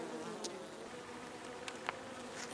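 Sluggish, mite-infested honeybees hum in a steady, soft swarm drone, with a few individual bees buzzing briefly closer.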